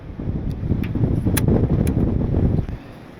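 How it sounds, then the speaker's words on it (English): Strong gusting wind outdoors buffeting the microphone with a loud, rumbling roar that holds for a few seconds and then drops away. "Oh man, it is windy."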